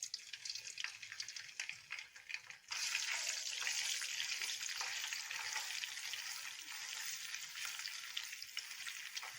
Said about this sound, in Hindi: अब इसको कुछ देर के लिए भून लेंगे